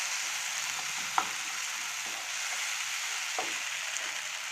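Egg and rice mixture sizzles softly in a pan as it is stirred, a steady quiet frying hiss broken by a few light spoon clicks and scrapes.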